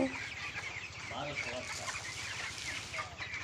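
Broiler chickens in a poultry farm cluck in a dense, continuous chorus, with many birds calling at once close by and a steady farm hum underneath.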